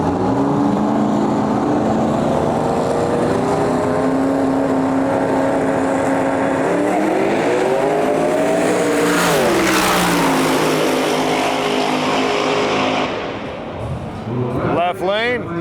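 Twin-turbo LS-swapped Nissan Hardbody pickup and a second pickup truck drag racing at a track, loud sustained engine roar with rising revs as they launch and pull away, fading near the end.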